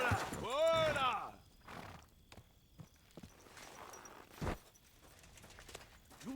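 A horse whinnies loudly, then hooves clop irregularly with scattered knocks and rustling, fairly close by.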